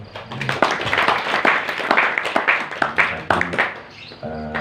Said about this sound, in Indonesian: tepuk tangan buat Mas Ton